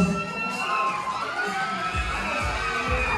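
A crowd, many of them children, shouts and cheers loudly and continuously at a family reunion, with excited high-pitched voices overlapping.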